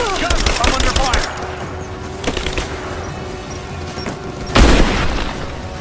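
Gunfire in Rise of the Tomb Raider: rapid bursts of shots at the start, then scattered single reports and a loud heavy blast near the end, with shouting voices mixed in.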